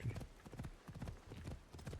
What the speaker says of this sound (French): J'ai un cheval. Je suis en cheval, je galope.